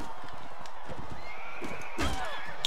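A horse in the medieval game Mount & Blade Warband whinnies loudly near the end, following a stretch of trotting hoofbeats and light game ambience, with a voice faintly present underneath.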